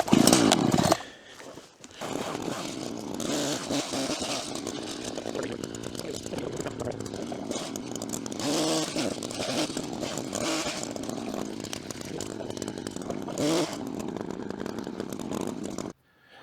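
A chainsaw cuts hardwood firewood in a woodlot, running loud and close with a steady throttled whine for most of the stretch after a brief pause near the start, with no talk.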